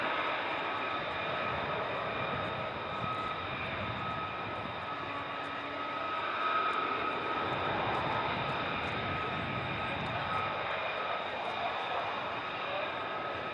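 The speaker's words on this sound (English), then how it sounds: "I can see some more jets above me" F-35 fighter jets passing high overhead near RAF Lakenheath, a distant, steady jet roar that swells slightly midway and holds for the whole stretch, with a voice talking over it.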